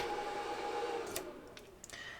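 A 3D printer's cooling fan whirs at full speed, a steady airy hiss with a faint tone that fades after about a second, followed by a few short clicks and a higher whine.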